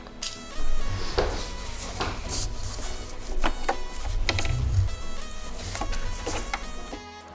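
Sewing machine topstitching along a fabric seam, close clattering mechanical runs of rapid needle ticking with low motor hum, interspersed with clicks and handling noises, no voice.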